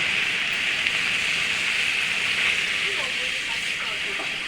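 Water poured into a pan of sautéed food sets off a loud, steady hiss and sizzle that holds for several seconds, with faint voices in the background.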